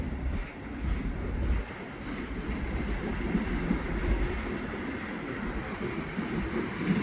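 A freight train made up mostly of tank cars rolls past a bike path in Montreal West, a steady low rumble with faint clicking wheels that rises and falls slightly throughout.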